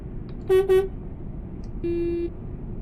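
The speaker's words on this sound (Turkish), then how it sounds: "Ha, kornalar değişti bir de bu arada." A Kamil Koç Travego 16 SHD bus horn in Euro Truck Simulator 2 sounds two quick honks, then after a pause a single longer, steady blast, loud and clear over a low engine hum.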